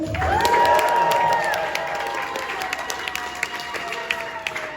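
A crowd at a community hall event cheers and claps for a DJ, starting with a loud burst of whoops and shouts that settles into scattered clapping and voices.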